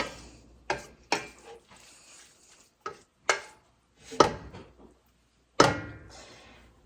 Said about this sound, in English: I'm going to stir that up well.